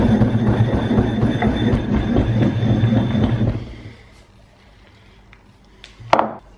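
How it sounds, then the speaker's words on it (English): Himalayan salt is ground into a fine powder for toothpowder, giving a close, rhythmic crunching and grinding for about three seconds. The sound then stops, leaving near-silence and one short knock. "I think it's about 2 big tablespoons of Himalayan salt. Grind it nice and thoroughly."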